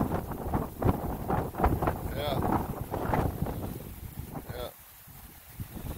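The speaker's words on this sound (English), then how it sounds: "But as you can tell, see that wind? See, we got a gust right there." Strong wind gusts tear through an oak tree in Frostproof, Florida, a loud roaring rustle that surges and then eases, with a person briefly speaking.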